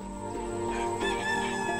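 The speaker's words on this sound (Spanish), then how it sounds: "El canto del gallo anunció el amanecer." A rooster crows at dawn, its long, loud cock-a-doodle-doo rising and holding over a low, steady background hum, a single call filling the moment.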